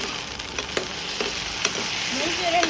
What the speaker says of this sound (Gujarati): ગ્રેવી તૈયાર છે. હવે આપણે મંચુરિયન નાખીશું.